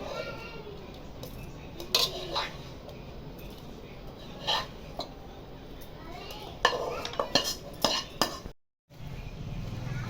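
Cooked rice being mixed with vangibath masala in a pan on a switched-off stove, with soft repeated stirring scrapes and occasional utensil clinks against the pan, close and steady.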